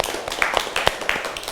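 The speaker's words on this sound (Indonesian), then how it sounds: "Beri tepuk tangan untuk Rati." A small classroom group claps for a student presenter, a few uneven, fairly close claps with gaps between them over a quiet room.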